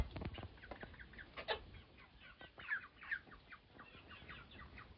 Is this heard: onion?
no